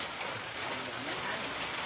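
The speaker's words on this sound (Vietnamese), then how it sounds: "cứ việc mưa thoải mái đó mưa trời đổ cơn mưa" Steady rain falling outdoors, a dense even hiss of drops close by with no pauses, holding at a constant level throughout.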